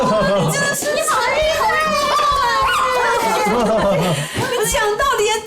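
A dog gives short yips and whimpering barks indoors, close and fairly loud, amid people talking and chuckling.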